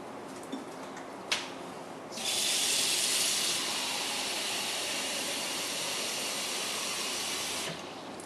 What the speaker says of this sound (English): I put a couple bowls of water in.